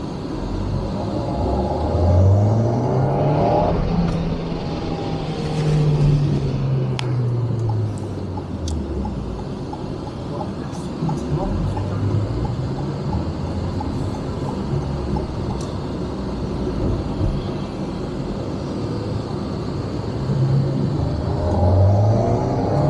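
A car in sport mode accelerates and shifts, its engine tone rising and falling in repeated sweeps as it pulls hard, steady road rumble underneath and no talk.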